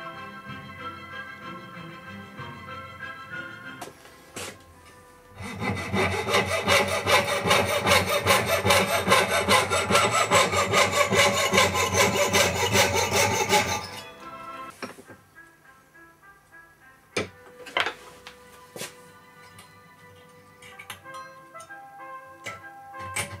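Fine-toothed saw cutting the cab back of a tiny Z scale Berkshire locomotive model, a fast rhythmic rasp of short strokes lasting about eight seconds, with quiet clicks and handling taps before and after.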